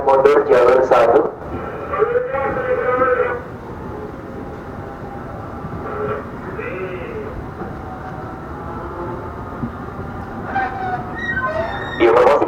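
Local Rangkasbitung–Merak passenger train shunting slowly backward into the depot at Rangkasbitung station, a steady low rumble of wheels and running gear, moderately close, with station announcements over a public address system.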